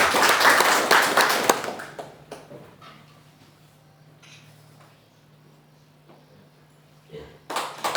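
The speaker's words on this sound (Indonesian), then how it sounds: "Kita kasih tepuk tangan." Audience clapping at the opening of a volleyball referee training event in Timor Tengah Selatan, a burst of applause that fades after about two seconds, followed by quiet room noise and a short return of clapping at the end.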